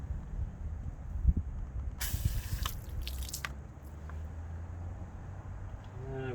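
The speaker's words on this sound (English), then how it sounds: "And I will spray a little bit of degreaser on here." Short hissing bursts of 3D Yellow Degreaser RTU are sprayed onto a car tire, a couple of quick spritzes in a quiet setting.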